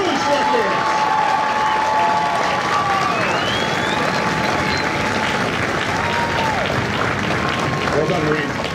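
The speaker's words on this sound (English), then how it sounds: "Would you join me in a round of applause for the Marines who make Marines, the drill instructors?" A large crowd applauds drill instructors at a Marine Corps Recruit Depot San Diego graduation ceremony, sustained dense clapping filling the whole stretch with a distant public-address tone ringing beneath it.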